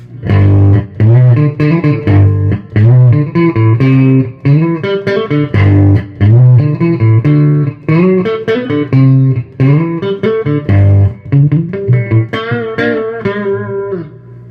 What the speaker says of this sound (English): I'm gonna go ahead and show you the breakup on this channel